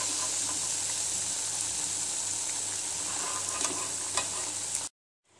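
Cauliflower bajji fritters fry in hot oil with a steady broadband sizzle and a few crackling pops, loud and close, alone without talk, before cutting to silence.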